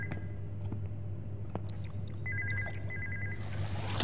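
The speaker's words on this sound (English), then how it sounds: "Again, the phone is ringing." A telephone rings inside the video game Vertigo Remastered, a repeated electronic bell trill that sounds in short bursts over a steady low hum, with no talking.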